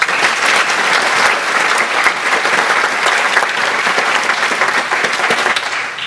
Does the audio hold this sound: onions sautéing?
no